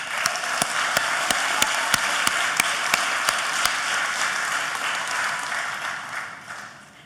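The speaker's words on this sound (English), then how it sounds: "big round of applause for Render Atlanta" Conference audience at Render Atlanta clapping in a steady, dense wash of applause, with sharp, regular individual claps standing out close by early on, then the applause thins and fades gradually toward the end.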